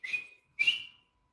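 Two short, bright referee whistle blasts end a match, each sharp and shrill, the second a little longer, with a brief gap between them and no voices.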